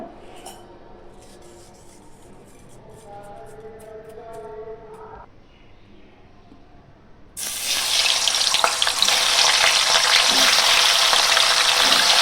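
Salted malai paneer pieces fry lightly in a pan. It starts quiet with faint kitchen noise, then a loud, steady hissing sizzle suddenly begins and continues to the end, with no voices.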